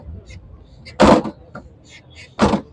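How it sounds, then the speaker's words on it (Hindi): Two sharp thuds of a Suzuki FX car door being shut, about a second and a half apart, close by, with faint background noise between; the door makes a slight noise but opens and closes well. "थोड़ी सी इस डोर दरवाजे में आवाज़ है, लेकिन बंद होने में और खुलने में अच्छी हालत में है।"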